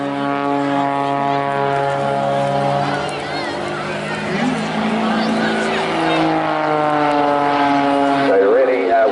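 Pitts aerobatic plane at an air festival flying a vertical snap roll into a torque roll, its propeller engine droning loud and steady with shifting pitch, while a commentator talks over it.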